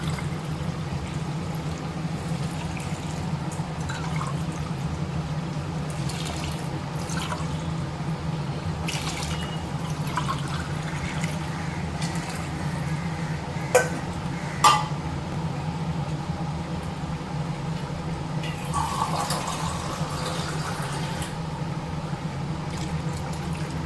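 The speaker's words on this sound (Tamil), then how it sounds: "டம்ளர் தண்ணி சேர்த்துக்கிறேன்" Water poured into rice for paneer biryani, a steady soft trickle and splash under a constant low hum, with a couple of brief clinks partway through and no talking.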